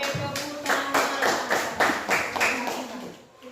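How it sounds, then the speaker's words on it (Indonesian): A group of people at a school session claps together in a steady, rhythmic beat of roughly seven or eight distinct claps, close by, tapering off at the end. "Oke, tepuk tangan."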